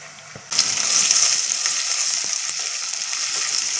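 Fenugreek seeds and garlic hit hot oil in a pan with a sudden loud sizzle that keeps going steadily, while occasional stirring scrapes and clinks cut through the frying close by.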